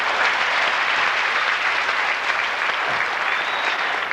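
Comedy festival audience applauding in a Montreal club, a dense, even, sustained round of clapping that holds steady and fairly loud throughout.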